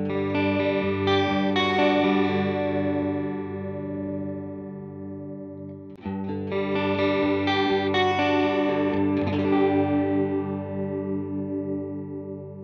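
Electric guitar played through a chorus effect on a Line 6 Helix with its delay setting changed, sustained shimmering chords that swell and wobble, two strummed phrases ringing out with no voices.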